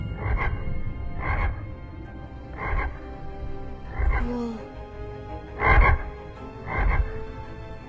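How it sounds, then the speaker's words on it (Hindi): A frog croaks loudly and close, about six evenly spaced, rasping pulses, each a short throaty burst separated by brief pauses, with a low rumbling background. "तबाही मचाने वाला मेंढक।"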